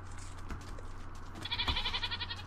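A goat in the Minecraft video game bleats twice in quick succession, clear and close, over a low steady background hum.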